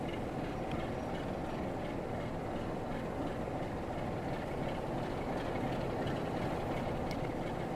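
Freight service 6C53 from Crewe sidings to Sellafield arriving at a station, heard as a steady low rumble of rolling rail wagons and engine noise with faint clanks, continuous and close throughout.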